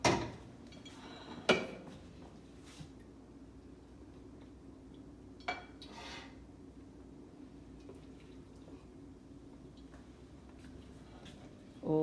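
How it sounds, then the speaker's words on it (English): A serving spoon clanks against a big pot as lobster mac and cheese is scooped into a serving dish: a few sharp metallic knocks spaced several seconds apart, with quiet kitchen stillness between them. "now I'm just going to go ahead and move everything from this big old pot into this nice serving dish"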